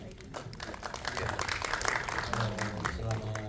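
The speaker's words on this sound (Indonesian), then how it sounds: "tepuk tangannya dulu" A crowd at a film press conference breaks into brief applause, dense scattered clapping lasting a few seconds with voices mixed in.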